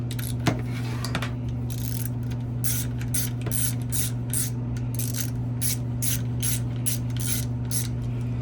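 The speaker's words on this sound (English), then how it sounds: "You want to tighten these all evenly so this plate doesn't crack." A ratchet wrench clicks in quick, rhythmic runs while tightening the clutch plate bolts on an XR/CRF100 stroker engine, close and crisp over a steady low hum.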